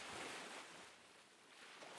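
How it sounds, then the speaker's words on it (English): Sea waves at twilight wash in a soft, continuous surf with gentle swells, faint and distant, with no voices. "That's exactly why I love the sea, you know?"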